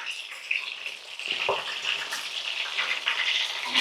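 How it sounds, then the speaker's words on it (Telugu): Small chicken leg pieces frying in hot oil give a steady, close crackling sizzle that runs the whole time, with a few brief stirring or clinking touches partway through. "అలా మెల్లిగా ఫ్రై అవుతూ ఉండాలన్నమాట. రెడీ అయిపోయిందండి, బాగా ఫ్రై అయిపోయింది."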